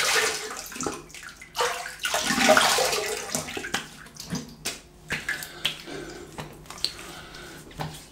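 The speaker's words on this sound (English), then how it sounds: "Let me have a quick rinse." Tap water runs close by for rinsing during a wet shave with a GSC Chameleon razor, a steady gush broken by splashing as the face and razor are rinsed, with no speech.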